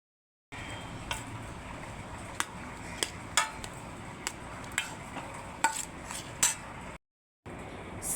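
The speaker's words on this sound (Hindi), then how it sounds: "अब हम इसे अच्छे तरीके से मिक्स कर देते हैं।" Cucumber, tomato and onion salad being stirred in a bowl, giving steady soft mixing and scraping with scattered sharp clinks of a utensil against the dish, close up and with no talk.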